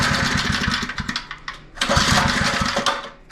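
A small petrol edger engine with a fuel-starved fault cranks and sputters into an uneven rough run, stalls briefly, then catches again, loud and close.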